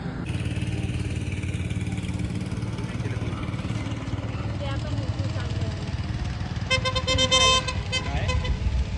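A go-kart engine drones continuously at a steady, buzzing pitch, fairly close, with a short tonal toot near the end.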